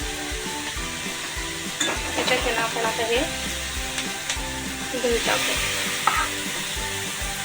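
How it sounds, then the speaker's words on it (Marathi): Green chilies fry and sizzle in a pan with cumin seeds while being stirred, a steady hiss with scraping and stirring clatter, and someone talks over the cooking. "अगदी छान अशी परतलेली मिरची"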